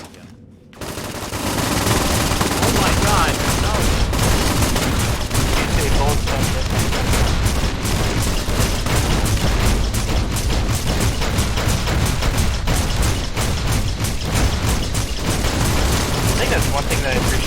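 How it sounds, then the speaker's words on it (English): Rapid, loud grenade machine gun fire from Fallout: New Vegas pounds almost without pause for over fifteen seconds, a dense stream of booming shots and blasts after a brief quieter opening. "I can't hear a word you said with this giant grenade machine gun"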